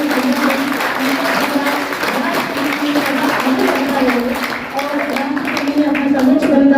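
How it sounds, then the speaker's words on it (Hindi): An audience at a poetry gathering held in a jail claps steadily throughout, with a sustained voice or tone running underneath the applause. "आप लोग श्रद्धा सुमन अर्पित करते हुए जोरदार तालियां बजाएंगे"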